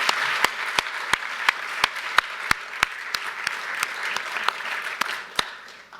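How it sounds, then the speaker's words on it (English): Sparse, distinct claps ring out one by one at an awards event honouring people in a hall, spaced unevenly over several seconds and thinning toward the end, with no voices over them. "Let's give them a round of applause"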